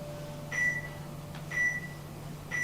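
Electronic timer alarm of a smart assistant beeping in three evenly spaced bursts, each a bright steady high tone about half a second long, repeating once a second over a low constant hum.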